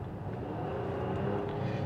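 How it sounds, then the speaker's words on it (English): A Nissan Pathfinder's petrol V6 VQ engine under full throttle, a steady muffled roar of acceleration heard from inside the car, moderately quiet and continuous with no speech. "you get the reminiscent sound of Nissan's VQ motor"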